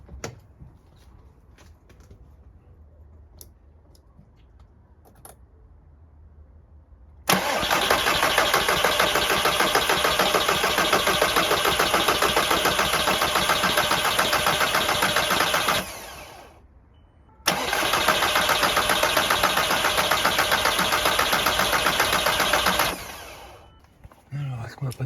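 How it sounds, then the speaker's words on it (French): A Seat 300 car engine cranks and catches, then runs at a steady, loud idle, cuts out briefly, restarts and idles again until it stops near the end. "on va la démarrer et on va voir"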